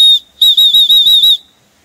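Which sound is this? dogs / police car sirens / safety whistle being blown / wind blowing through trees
safety whistle being blown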